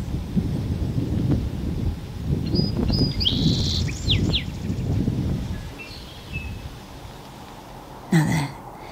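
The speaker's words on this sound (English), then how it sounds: "Here's another song sparrow. I think he's going to sing for us." A song sparrow in spring in Vancouver, BC sings a bright, varied phrase of trills and sweeping notes, clear and fairly close, over a low rumble of background noise, followed by a brief louder disturbance near the end.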